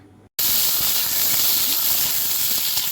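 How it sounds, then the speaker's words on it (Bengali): Yardlong beans drop into hot oil and set off a sudden loud, sustained sizzling hiss that stays steady and close after a brief quiet moment. "এই বরবটিগুলো কিন্তু এবার তেলের মধ্যে দিয়ে দিচ্ছি"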